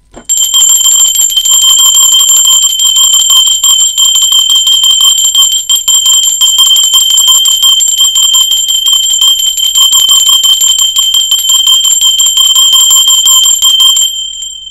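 A bell rings steadily and loudly for about fourteen seconds, a continuous bright metallic ringing that stops abruptly near the end, with no talk.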